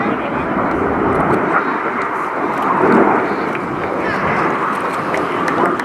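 Red Arrows RAF jet aircraft making a display pass at an air show, a broad steady roar of jet engine noise held at even loudness throughout, with a slight swell midway as it passes.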